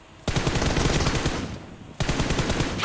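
Sustained automatic gunfire in the mobile shooter PUBG during a Thailand versus Indonesia match: a loud, dense burst that eases for a moment, then a second heavy burst kicks in near the end.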